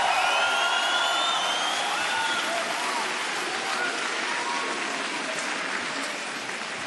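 Sustained audience applause at a game music concert, a dense steady wash of clapping from a large crowd that fades slightly toward the end, with faint whistles or cheers mixed in.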